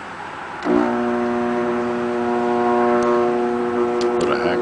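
An armature growler tester, an open core transformer, gives off a loud, steady electrical hum with strong tones that switches on abruptly and then holds evenly until the end.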